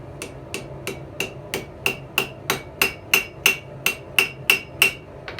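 Steady hammer blows on a hot iron nail over an anvil's pritchel hole, about a dozen ringing hits in an even rhythm, close and loud with no talking.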